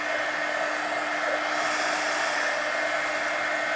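A heat gun blows steadily, a loud continuous hiss and whoosh with a faint hum, used to dry paint in a mixed media magazine journal, with no talking.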